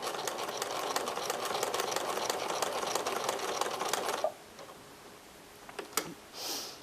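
A sewing machine stitches appliqué, a fast, steady mechanical whirring rattle close by for about four seconds before stopping, followed by a few faint handling clicks and rustles.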